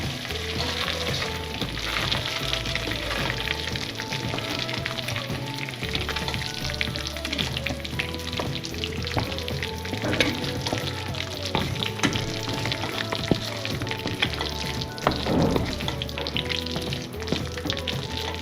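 Chicken curry sizzles and fries steadily in a pan while a spoon stirs through it, scraping and clacking at an even pace, close and fairly loud with no talking.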